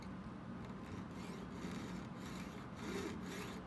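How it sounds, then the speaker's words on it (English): Hand sawing at a jeweller's bench pin while making jump rings, with a beeswaxed blade: quiet, steady back-and-forth rasping strokes, slow and even, close and soft. "And then I'm going to start sawing."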